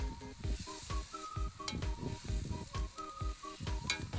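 Beef shanks browning in a cast-iron pot give a faint, steady sizzle broken by regular soft ticks and pops, with no voices.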